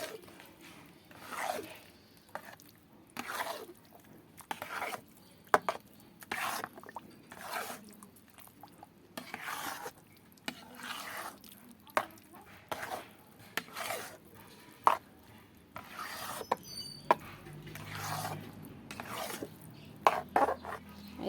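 Panta bhat papad batter is stirred in a pan, giving repeated scraping and rubbing strokes at an irregular pace, close by and fairly quiet, with occasional soft clinks.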